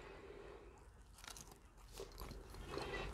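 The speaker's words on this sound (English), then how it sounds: "I'm getting into the sandwich" Close, crisp crunching bites into a McDonald's crispy spicy chicken sandwich, a few crackling bites and chewing sounds, faint and intimate with no talking.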